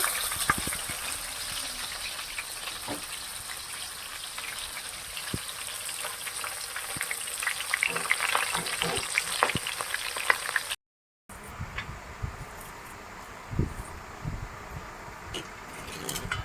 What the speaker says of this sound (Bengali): কাঁটাগুলো আমি এরকম মোটামুটি ভাজবো